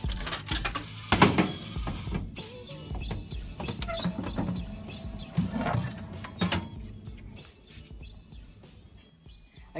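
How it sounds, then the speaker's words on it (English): A vending machine just outside a room dispenses a Coke, giving a few mechanical whirs, clunks and thumps with a couple of sharper knocks around the middle, fairly close and without talk. "Time to go to the vending machine."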